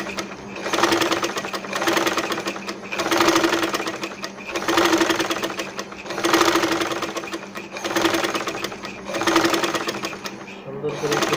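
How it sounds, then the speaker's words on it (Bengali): A sewing machine stitches fabric for a kufi cap in steady runs of fast mechanical whirring, about six bursts separated by short pauses, with a voice speaking over it. "সুন্দর করে ঘুরিয়ে আমি এরকমভাবে সেলাই করে নেব।"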